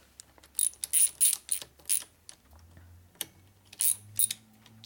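Metallic ratchet clicks in short bursts, close and fairly loud, as a wrench tightens cover bolts in a crisscross pattern on an S&S 113ci Evolution motorcycle engine, with brief pauses between bolts.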